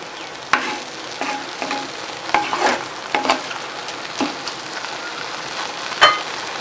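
Cabbage simmering in boiling milk in a pan on a stove gives a steady bubbling, sizzling wash, with a few sharp clicks and stirring knocks scattered through, close and fairly loud, with no talking.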